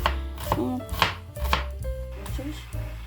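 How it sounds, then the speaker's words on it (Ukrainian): A knife cuts an onion into quarters on a board, about five or six firm chops spaced irregularly over three seconds, each a close crunchy thud with a brief slicing crackle, no voices present. "Тому я в м'ясо завжди кладу багато цибулі. Отаким таким я її четвертинками, можна сказати, ріжу."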